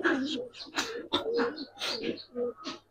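Giribaz silver lalpatti pigeons cooing close by, a run of soft rounded coos repeating in quick bursts with brief pauses between them, no clear talk.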